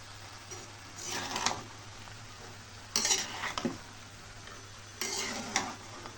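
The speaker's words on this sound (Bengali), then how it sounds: "ভাজতেছি টমেটো দিয়ে, আলু দিয়ে, পেঁয়াজের টেক দিয়ে।" Tomato, potato and onion frying in a pan, a low steady sizzle with three bursts of spatula scraping and stirring at regular intervals, close and fairly quiet.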